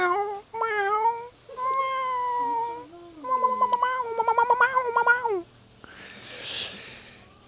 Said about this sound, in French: Là il y a un petit chat, et c'est notre chat